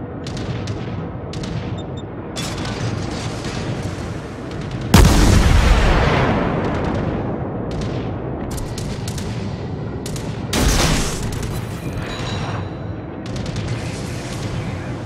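Naval gunfire from the Japanese cruiser Furutaka in World of Warships: two heavy, booming salvos, the first loud at about five seconds and a second later, over steady engine and sea rumble with scattered smaller shots.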